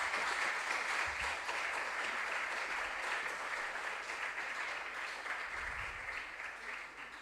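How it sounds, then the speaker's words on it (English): An audience at a regional junior science and maths quiz applauding, a dense, sustained wash of clapping from a crowd heard from a distance, slowly fading toward the end. "can we give them a resounding round of applause?"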